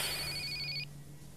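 A cell phone ringtone chirps in a bright, steady electronic tone for under a second, then cuts off abruptly, leaving a faint background hum.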